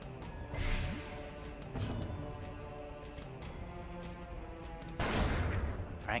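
Grenade attack in the Darkest Dungeon video game: a dense burst of explosive blasts and crashing impacts, with a loud final blast near the end, all over a steady game score and no talk.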